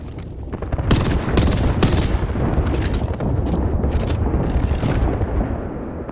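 Dense, continuous gunfire in an Apex Legends firefight, with rapid overlapping shots and sharp bursts sustained loud throughout, no talking.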